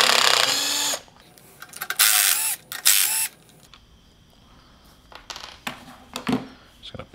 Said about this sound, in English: So I got 3 bolts here we're gonna take off.